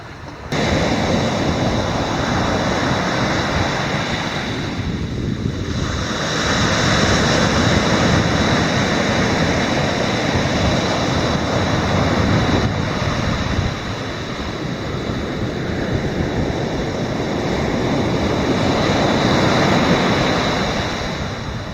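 Ocean surf rolling onto a beach at Napatree Point in a loud, continuous roar, with waves surging and receding under steady wind rumble and no voices.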